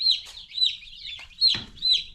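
Young Cornish cross broiler chickens, a fresh batch of meat birds, give repeated high peeping clucks close by, about five calls in quick succession with a soft thump under one of them.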